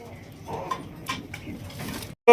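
Pigeons offered for wholesale sale cooing softly in the background, with a person talking over them throughout.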